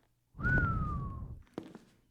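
A person walking into a room whistles softly: one sustained low note drifting slowly downward for about a second over a dull rumble, followed by a couple of soft thuds like footsteps.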